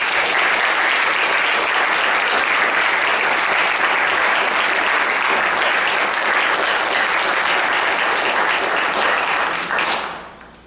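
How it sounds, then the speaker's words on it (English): Sustained, loud audience applause greeting a guest speaker coming onto a stage at a community arts event in New Westminster, a dense, even roar of clapping lasting about ten seconds before fading out quickly at the end. "bring him on the stage with a good round of applause"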